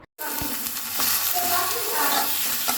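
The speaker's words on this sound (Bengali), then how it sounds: "একদম লাল টুকটুকে মরিচ দিয়ে আমি মাছ ভুনা করতেছি" Fish being cooked down bhuna-style with red chili in a pan gives a steady, loud sizzle that fills the whole clip after a brief silent start, with faint stirring underneath.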